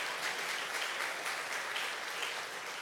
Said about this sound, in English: You can stand and applaud yourself if you'd like.